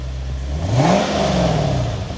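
A Lexus ISF V8 fitted with an X-Force Varex valved exhaust gives one loud, close rev that climbs sharply, then eases back down into a rumbling idle, with no voices.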